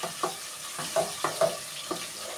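Onion frying in a hot pan for a cabbage dish, a continuous soft sizzle punctuated by about five rhythmic scrapes and taps of a stirring spoon, close up with no talk.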